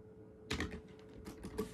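A computer keyboard typed on in a few quick clusters of soft clicking keystrokes, close and quiet over a faint steady hum, with no talking.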